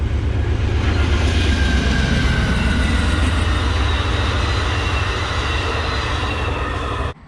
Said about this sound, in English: I hear the Amtrak coming